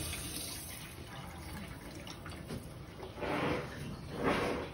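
Water runs from an open boiler drain through a connected hose while a Burnham gas steam boiler's hydronic baseboard zone is flushed, a soft continuous splashing flow that swells louder in two surges near the end.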